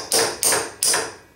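A snap ring is tapped into a BMW R65 motorcycle brake part with three sharp, close knocks spaced evenly, with no talking.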